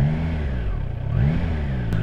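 A Triumph Tiger Sport 660 motorcycle engine hums low and smooth, dipping briefly then rising again as the throttle opens, close and continuous with no talk.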